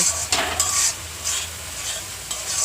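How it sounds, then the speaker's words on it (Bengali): Spice paste for a fish curry being stir-fried in a pan, a steady sizzle and frying hiss with repeated scraping stirs throughout, close and fairly loud, no talking. "কষে নিচ্ছে ভালো করে মশলাটা"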